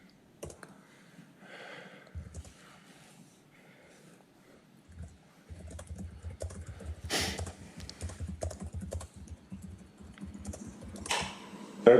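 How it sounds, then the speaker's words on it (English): Typing on a computer keyboard during an online class session, heard as irregular bursts of clicks and clatter at moderate loudness, fairly close, continuing through most of the stretch with some background noise and no talk. "we hear the typing"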